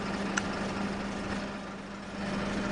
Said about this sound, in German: Ja, das ist der Motor, den wir hier hören.